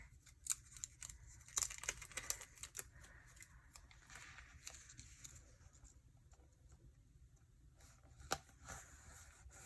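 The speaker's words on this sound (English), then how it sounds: "because it is easier to trim with scissors, because I don't want to accidentally cut the washi tape below it" Scissors trim washi tape with quick, light snips in short bursts, faint and close, alongside soft paper rustling and no talk.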